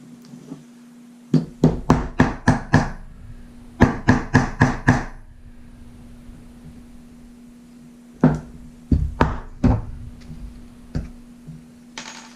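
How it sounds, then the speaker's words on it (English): Hammer driving a small round-edged rivet into a leather knife sheath: quick clusters of sharp taps, five or six at a time, separated by pauses, close and crisp over a faint steady hum. "you can use this little rivet because it's got a rounder edge and it works better to hammer it down"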